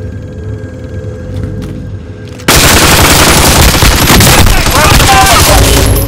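Call of Duty: Warzone gunfire: after a quieter stretch of ambient hum, loud sustained machine-gun fire suddenly erupts and keeps rattling densely to the end, close and overpowering, with faint game voices mixed in.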